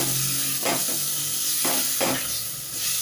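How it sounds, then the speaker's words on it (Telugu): Onion and coriander being stirred into a sizzling curry leaf chutney in a pan, with a few scraping strokes over a steady frying hiss, close and moderately loud, no talking. "దాంట్లోనే ఉల్లిగడ్డ, కొత్తిమీర, వేసుకొని బాగా కలుపుకోవాలి"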